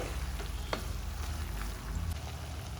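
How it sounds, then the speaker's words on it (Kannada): Tomato, onion, garlic and chilli fry in a pan while a mutton boti gojju is being made, giving a continuous low, even sizzle with faint crackles and no talking. "ಟೊಮೊಟೊ ಈರುಳ್ಳಿ ಬೆಳ್ಳುಳ್ಳಿ ಎಲ್ಲ ಏನು ಚೆನ್ನಾಗಿ ಫ್ರೈ ಆಗಿದೆ"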